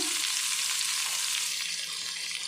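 Chopped garlic and ginger frying in hot oil in a pan for hotel-style chicken fried rice, a dense steady crackling sizzle heard close and unbroken, with no voices.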